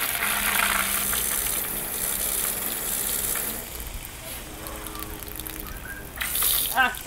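Tap water runs steadily from a faucet as a continuous hiss and splash, fairly close and moderately loud, with a brief surge near the end; no speech is heard over it.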